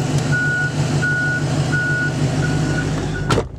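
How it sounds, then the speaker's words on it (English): A variable-output backup alarm on a 2013 Ford F-350 Super Duty truck beeps five times in an even, evenly spaced rhythm over a low idling engine rumble, heard close up. "That is a variable output backup alarm."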